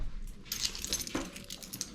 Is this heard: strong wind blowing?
no